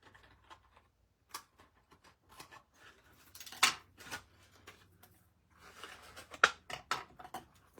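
Scissors trim a piece of paper card in a series of short, crisp snips, some closer together, heard up close in an otherwise quiet room.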